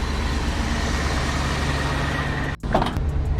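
A 1975 International Scout with a new air filter rolls along on a test drive, its engine a loud, steady low drone from inside the cabin, broken by a brief dropout and a knock near the end.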